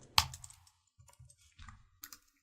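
A few quiet, irregular keystrokes tap on a computer keyboard, with one sharper click followed by soft scattered presses.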